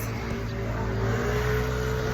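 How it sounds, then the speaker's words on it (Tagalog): Honda motorcycle engine, a Honda Wave or Beat, running steadily close by with a low, even hum that rises slightly as it revs, with no break through the clip. "Ito yung motor ko guys."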